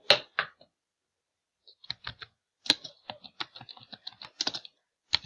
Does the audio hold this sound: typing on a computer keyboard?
yes